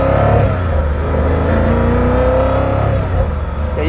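A powerful hypercar engine revs loudly and rises in pitch, close and continuous, with the mechanical whine climbing through the gears.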